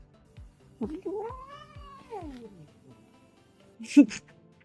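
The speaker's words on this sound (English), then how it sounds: "And now my cats are wrestling on the floor." Pet cats wrestle on a floor indoors, one giving a long rising and falling meow followed by a sharp yowl and scuffle, heard close and fairly clear over faint background noise.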